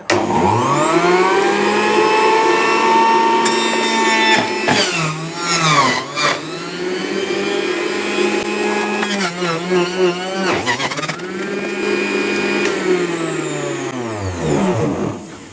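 An electric juicer chews through pineapple pieces with a loud, close motor whine that keeps rising and dipping in pitch as the chunks load and free the blades.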